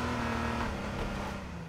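A cop car drives in the video game H1Z1 with a steady, close engine drone and road rumble that holds at an even level throughout, with no talk.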